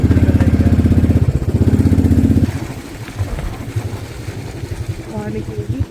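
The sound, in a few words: motorcycle engine idling on mountain road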